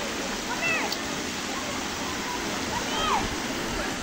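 Water flowing in a river beside a beach resort makes a steady, broad rushing wash throughout, with brief faint voices or chirps over it.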